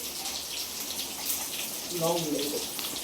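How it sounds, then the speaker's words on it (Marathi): Eggplants and potatoes are rinsed under a running kitchen tap, a steady close splashing flow with a brief gurgle as the vegetables are turned, and a voice speaks faintly underneath. "आता हे वांगे आणि बटाटे धुवून घ्यायची."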